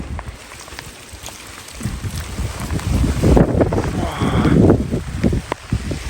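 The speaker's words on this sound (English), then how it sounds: "The wind and the rain's really picking up now" Gusty wind and rain buffet the microphone with low rumbling, growing stronger midway, with rain patter mixed in.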